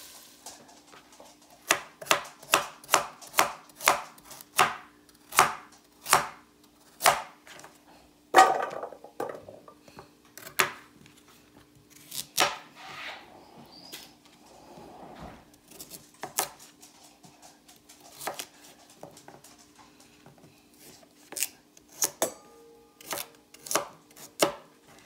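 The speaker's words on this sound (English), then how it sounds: "cut up the rest of my vegetables" A knife chops vegetables, including celery, on a cutting board for an Irish soup: sharp, evenly spaced taps in quick runs, then slower scattered cuts and light clinks, close and clear without talk.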